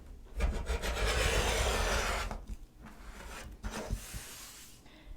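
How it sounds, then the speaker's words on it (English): Fabric edge being trimmed from a quilt, a long steady cutting rasp through cloth and batting for about two seconds, then two shorter scraping passes, close and moderately loud with no talking. "And then you can go ahead and trim off this piece."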